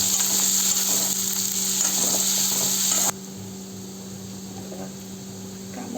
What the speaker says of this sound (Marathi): कढीपत्ता, त्याला लाल होईपर्यंत परतून घ्यायचं।